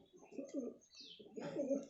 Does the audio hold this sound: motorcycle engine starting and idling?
no